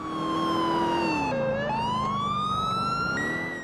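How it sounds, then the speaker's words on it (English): A loud, close police siren from Grand Theft Auto IV wails continuously, its pitch stepping down and then sliding back up, with no other sounds. "the way cop car lights get damage, which then affects the siren"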